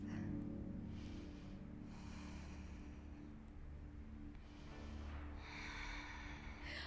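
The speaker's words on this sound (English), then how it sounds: "One more breath." Soft, airy breaths drawn in and let out during an intermediate heart-opening yoga flow: three slow, close breath swells over a faint, steady background drone.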